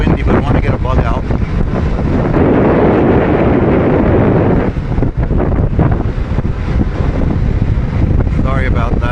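On a motorcycle ride with the helmet visor open, heavy wind buffets the microphone in a loud, roaring rush that surges and eases, with a rider's voice breaking through at moments.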